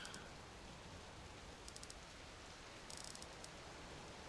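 Rain falls steadily in the Subsistence survival game as a faint, even hiss, with a few tiny ticks scattered through it.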